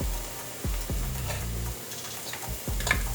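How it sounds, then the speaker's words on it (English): Garlic sautés in a pan with a quiet, close sizzle, broken by a few low thumps and scrapes as it is stirred. "once they've been sauteing for about a minute or so, minute and a half, we're gonna add the garlic"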